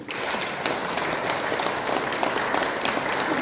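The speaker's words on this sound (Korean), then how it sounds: "제가 오른손 들면 박수를 쳐주십시오." A large audience at a Catholic parish volunteer training session claps on cue, a loud, thick, continuous burst of applause with no talk over it.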